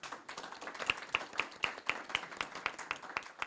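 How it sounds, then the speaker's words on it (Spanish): Audience applause at a library reading circle, a small group clapping with distinct individual claps falling into a loose rhythm, moderately close and steady throughout. "Les pido un aplauso para ellos."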